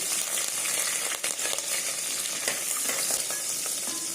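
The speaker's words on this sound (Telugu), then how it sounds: "1 స్పూన్ నెయ్యి వేసాను, 2 ముక్కలు మిర్చి వేస్తున్నా అండి" Green chili pieces fry in a spoonful of hot ghee with a dense, loud, continuous sizzle and crackle that holds steady throughout, close up with no voices.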